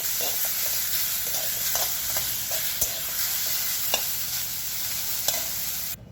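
Ambadi greens dry-roasting in a pan while being stirred: a steady hiss runs throughout, with scattered sharp clicks and scrapes from the spoon at irregular intervals.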